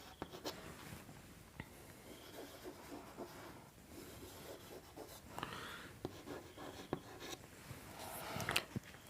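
A pen scratches across paper as labels are jotted down, soft close strokes and taps in short bursts over a quiet background.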